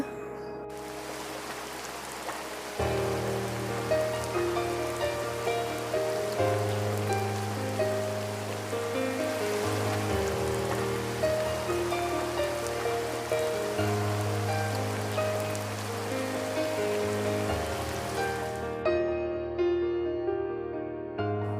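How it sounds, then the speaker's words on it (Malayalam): Heavy rain pours steadily outside in a continuous dense wash, with a low musical hum starting under it after a few seconds and the rain cutting off near the end. "മഴ തകർത്ത് പെയ്യുന്നുണ്ട്"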